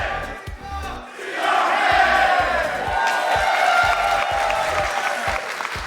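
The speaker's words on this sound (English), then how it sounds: "Hear the chants?" A small but energetic esports crowd at a Rocket League World Championship match cheers and chants loudly and continuously, with rhythmic claps or stomps punctuating the roar throughout.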